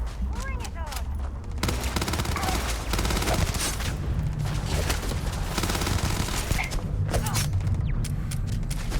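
Sustained gunfire in the sci-fi game Starfield: dense, rapid volleys of shots with thumping impacts that run almost without pause through the whole stretch, loud and close.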